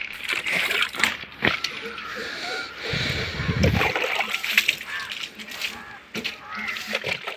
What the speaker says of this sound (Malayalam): മൂന്നാമത്തെ ബക്കറ്റ് വെള്ളമാണ് നമ്മൾ ഒഴിക്കാൻ പോകുന്നത്